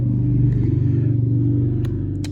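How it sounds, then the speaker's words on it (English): Cars rushing past on a road, a steady loud engine and tire rumble with a pulsing hum, joined by a couple of brief sharp clicks near the end. "A lot of cars zipping by."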